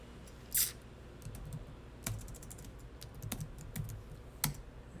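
Keystrokes on a computer keyboard during accounting software data entry, a few sharp separate clicks spread across a quiet room with no talking.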